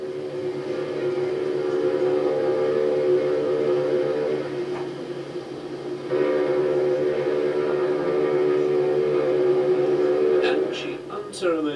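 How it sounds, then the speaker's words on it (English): The ocean liner Queen Mary sounds her deep steam sirens in harbour, two long loud sustained blasts separated by a short pause, with a thin whistle-like sound at the end. "Right on time, the Mary sounds her sirens."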